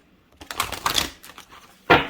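Oracle cards being shuffled by hand: a few quick riffling bursts, close and crisp, ending in a sharper snap of cards.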